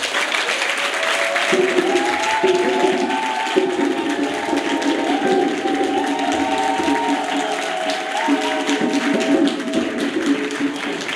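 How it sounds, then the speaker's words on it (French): An audience at a training camp for holiday-camp monitors applauds the cooks, with sustained clapping under a tonal, musical background and some voices. "Mention spéciale à nos braves cuisinières. Un applaudissement."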